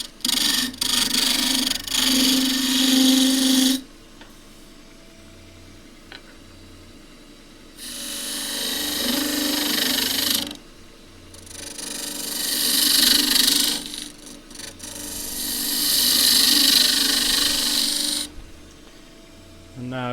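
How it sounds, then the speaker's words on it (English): A skew chisel takes peeling cuts on an end-grain box spinning on a wood lathe, producing bursts of bright hissing shavings sound separated by quieter stretches of motor hum, with speech heard at times. "So first thing is to trim it up, skew chisel, peeling cut."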